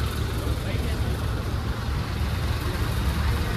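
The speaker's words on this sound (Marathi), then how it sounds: "बेकार ट्रॅफिक झाले, बेकार" Steady, dense rumble of road traffic in a city, stuck in heavy rain, with engine noise filling the low end, constant and close throughout, with some voices mixed in.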